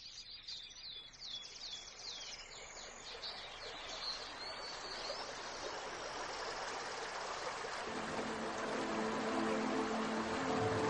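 Steady rushing of a small waterfall beside a dippers' nest, a broad continuous wash of water that swells slightly louder toward the end, with thin bird chirps and calls threading through early on.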